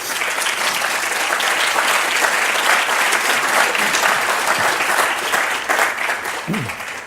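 Sustained audience applause fills a hall as a speaker is welcomed at a Building the Future talk, steady and dense for about seven seconds without a break.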